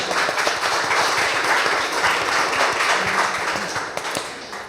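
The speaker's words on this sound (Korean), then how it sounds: "큰 박수로 맞아주세요" An audience at a literary event applauds to welcome two children's story authors, a steady, even clapping from many hands that tapers slightly toward the end.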